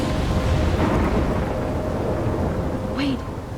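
A thunderstorm in Life is Strange: a low, continuous roar of thunder and rain, loud and close throughout, easing slightly at the end.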